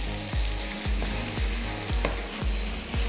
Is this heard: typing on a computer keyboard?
no